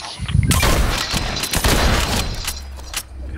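Fortnite gunfire cracks out in loud, close bursts with a series of sharp shots and heavier impacts. A sudden burst starts the sequence, which thins out toward the end, with no voices over it.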